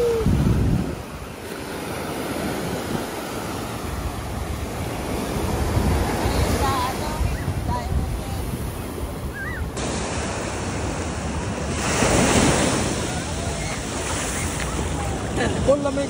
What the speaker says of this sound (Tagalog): Nakakita kami ng tunay na dagat dito